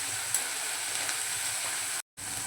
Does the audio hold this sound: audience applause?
no